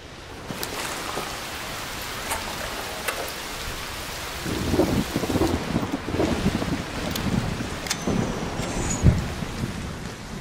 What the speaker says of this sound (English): an electromagnetic storm is currently raging over topside. Beware the lightning strikes if you're outdoors.